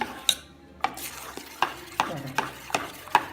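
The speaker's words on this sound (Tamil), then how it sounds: "துண்டு கிடக்காமல் கலக்கணும்" Wheat flour batter is stirred in a bowl with a spoon, making about eight sharp, regular clacks against the side over a soft, wet mixing sound.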